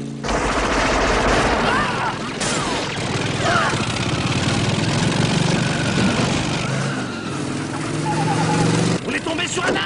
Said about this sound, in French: Conduire une moto tout en tirant à la mitrailleuse, c'est pas donné à tout le monde